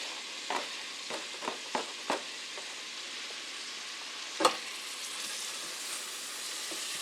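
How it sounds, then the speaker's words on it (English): About three cups of chopped white and yellow onions sauté in melted butter for a creamy tomato soup, giving a steady close sizzle broken by several sharp clicks of stirring, with no talking. "to that I'm going to add approximately 3 cups of chopped onion"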